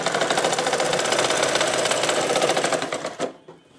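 A sewing machine runs in one fast, steady burst while stitching a salwar seam, then stops abruptly near the end, with no talk.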